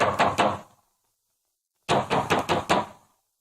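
Knocks land on a wooden door in a 1944 Hindi film: a short burst of three raps, a pause of silence, then a longer run of about five firm raps.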